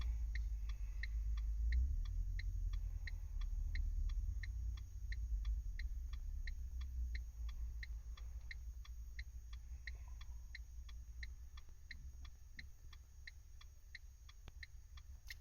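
Hazard light relay of a 2014 Renault Captur ticking at a steady, even pace for the whole stretch, crisp and fairly close over a low engine rumble, no voices.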